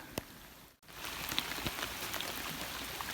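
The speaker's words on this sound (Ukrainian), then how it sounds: "А дощ стає ще сильнішим і сильнішим." Heavy rain patters steadily on a surface close by during an overnight fishing trip, a dense hiss with scattered louder drops after a brief quiet break.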